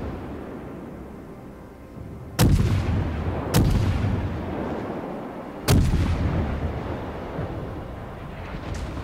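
Three heavy booming naval artillery salvos in the World of Warships video game, fired at irregular intervals over a steady low rumble of engine and sea ambience, each blast loud and sharp with a rolling decay.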